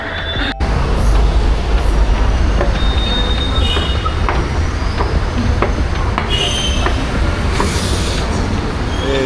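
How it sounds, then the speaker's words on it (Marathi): A train moves through Pune railway station, its wheels rumbling loudly and steadily on the rails with high metallic squeals and clanks rising over the din. "फायनली पुणे रेल्वे स्टेशनवरती आलेलो आहे"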